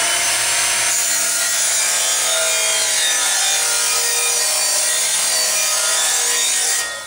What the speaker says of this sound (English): in no time at all I can put an edge on a shovel